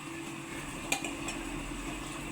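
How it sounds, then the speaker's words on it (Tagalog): A pot of peanut sauce for kare-kare bubbles on the stove with a soft, steady simmering hiss and a couple of faint clinks, fairly quiet and without talk. "Kumukulo."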